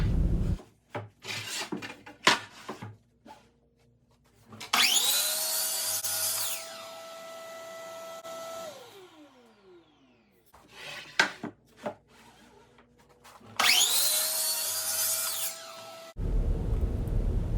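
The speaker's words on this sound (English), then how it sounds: "Then I'll head over to the table saw and rip them all down to 2 inches in width." A table saw rips wooden face frame pieces to width in two long cutting passes, each blade spinning up with a steady high whine and bright cutting noise, separated by clattering wood handling and thuds nearby, with no talking.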